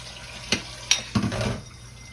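Tap water fills a cooking pot for smothered cabbage with green bell peppers: a few close clunks, then a short gush of running water that tapers off.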